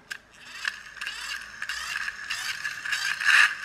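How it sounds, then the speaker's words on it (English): A Tonka toy car with a friction flywheel whirs steadily as its wheels and axle are turned by hand to drive the flywheel, with ratcheting, gear-like clicks over a close mechanical hum. "So now turning the wheels and the axle are directly driving the flywheel."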